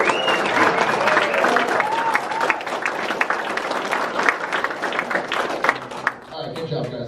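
Dense, sustained applause from an audience at a strength competition awards ceremony, loud and continuous for several seconds before thinning out near the end.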